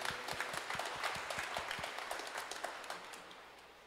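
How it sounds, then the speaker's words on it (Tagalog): A Catholic congregation at a Kapampangan Mass claps hands together in fairly quick, rhythmic applause that gradually fades, with no talking over it. "kung ikaw ay masaya, pumalakpak ka, palakpakan tayong kikatang Ginong Diyos"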